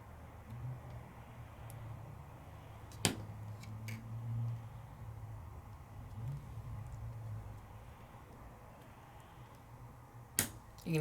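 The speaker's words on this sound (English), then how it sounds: "you can hear it snap" An adapter snaps into place on a Sizzix Stencil and Stamp Tool, giving two sharp, isolated clicks spaced several seconds apart over a quiet low background hum.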